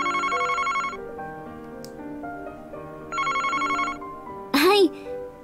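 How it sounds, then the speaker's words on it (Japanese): A telephone rings in the Famicom Detective Club video game, two bursts of electronic trilling bell tones separated by a pause, with a short chirpy game sound effect after them. "あら、電話だわ。"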